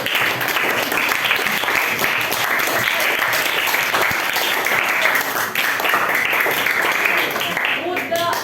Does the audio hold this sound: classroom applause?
yes